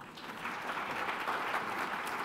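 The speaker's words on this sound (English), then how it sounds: "Another round of applause." Applause from a conference audience after a short rapid-fire research presentation, a steady, fairly faint wash of many hands clapping throughout with no voices standing out.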